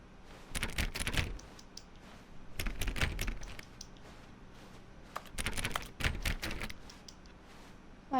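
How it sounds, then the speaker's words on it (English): Keyboard typing in the video game The Stanley Parable: Ultra Deluxe, quiet clusters of rapid key clicks in several bursts, with pauses between them. "Wait, why am I typing?"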